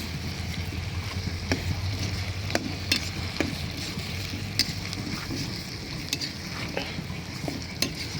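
Masala spices fry and sizzle in a pan while being stirred for goat meat curry, a continuous close hiss broken by scraping and clinking of the spoon against the pan.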